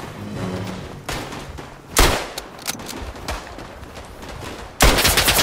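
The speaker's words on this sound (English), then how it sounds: "Oh, that machine gun again." Bursts of machine gun fire in a WW1 shooter game, several sharp loud volleys with scattered shots between, heavier burst at the end, over a busy battlefield din.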